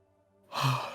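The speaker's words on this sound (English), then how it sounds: "He stops to yawn." A single breathy yawn rises out of near silence, soft and drawn out at close range.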